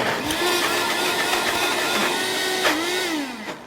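A kitchen blender runs continuously at high speed, its whining motor pitch dipping and recovering as the load shifts, loud and close throughout before easing slightly at the end.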